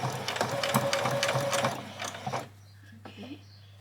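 A sewing machine stitches apron fabric in a fast, steady mechanical run for about two seconds and then stops, with a faint rustle of handling afterward.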